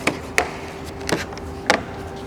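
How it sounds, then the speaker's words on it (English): A Launch X-431 Throttle scan tool box is opened by hand, with four distinct close taps and cardboard clicks spaced irregularly over a soft rustling background. "we're going to open up the box for the throttle"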